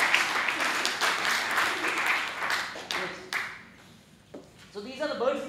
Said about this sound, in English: Please clap, people.